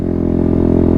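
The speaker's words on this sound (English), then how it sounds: "right now it's already kind of over revving. All right, listen to it." Dirt bike engine over-revving at a steady high pitch, loud and close, with a continuous droning buzz and rapid firing pulses throughout, no talking.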